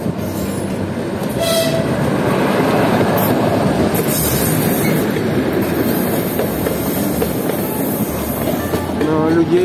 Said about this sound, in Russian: Вот навстречу мне из-за деревьев выходит состав.